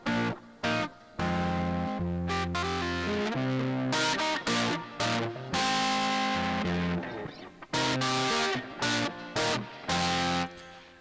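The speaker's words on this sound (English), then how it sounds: "And so with the distortion, this is what you're hearing." Distorted music loop processed through Output Arcade's grit distortion, a loud, dense, buzzing texture with rhythmic chopped stops and restarts throughout, no voices.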